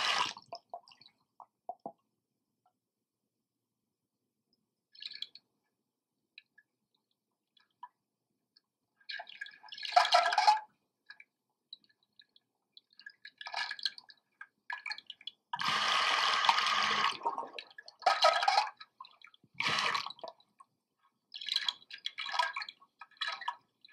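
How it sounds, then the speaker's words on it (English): Underwater recording of a Hydro Wave fish attractor running with a trolling motor, heard as scattered bursts of hiss, clicks and watery crackle separated by stretches of near silence. "that's what the hydro wave sounds like with the trolling motor going"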